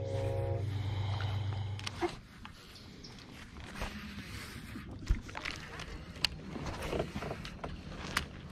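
Outboard boat motor running on the Erie Canal, a steady loud drone for the first two seconds that then drops to a low idle under water noise and occasional knocks.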